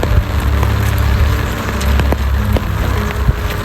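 Steady heavy rain pours continuously with a dense low rumble and a constant hiss, loud and close, with no voices heard.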